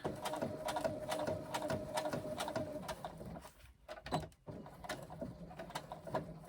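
A sewing machine stitches the side seam of a backpack, running in quick repetitive mechanical bursts that pause briefly partway through, then resume close by.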